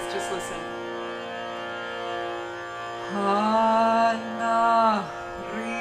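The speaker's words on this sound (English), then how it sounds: "We'll do a long Om." A long, sustained Om chanted by a voice during a guided meditation, its steady harmonic tone swelling louder midway, with a quieter held drone underneath throughout.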